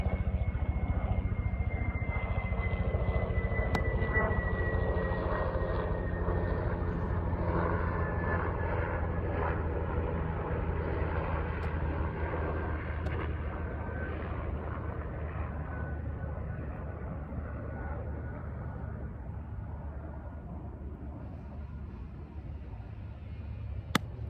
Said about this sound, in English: Okay, airplanes, there's an airport in this town